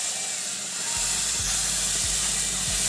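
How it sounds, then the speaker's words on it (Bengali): A smooth ground spice paste gravy fries in hot oil with bay leaf in a pan for mutton curry. A loud, steady sizzling hiss is joined partway through by a low hum and a few soft scraping taps. "গ্ৰেভিখিনি মই 5 মিনিট ভাজি ল'লোঁ"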